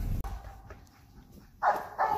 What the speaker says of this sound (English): You guys can hear the dogs in there.